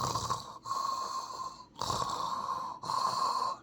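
A voice imitates snoring in the style of Darth Vader's breathing: three long, raspy, rhythmic breaths separated by short pauses, close and fairly loud with no other talk.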